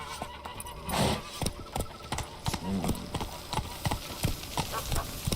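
Horse hooves clip-clopping steadily in a galloping rhythm while riding through Toussaint in The Witcher 3, loud and close, with a voice speaking over the hoofbeats.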